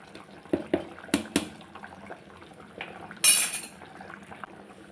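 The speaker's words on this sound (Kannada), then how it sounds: "ಇವಾಗ ನೋಡಿ ಸಾಂಬಾರು ಕುದೀತಾ ಇದೆ" A pot of cowpea (alasande) sambar bubbles at a low, steady simmer, with a few sharp metal clinks of a ladle against the vessel and a louder splashy burst near the end.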